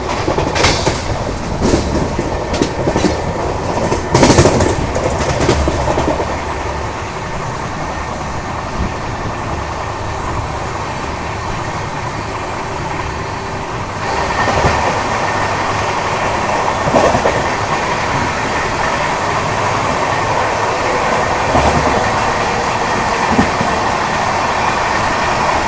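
The Duronto Maharashtra Express runs past on the rails during an overtaking move, a loud, steady roar of wheels with clickety-clack rhythm and rattling carriages that goes on for the whole stretch, with no voices.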